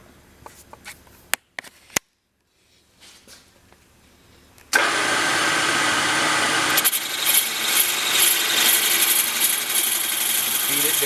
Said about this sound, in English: The cutter spins around like this and machines out the part.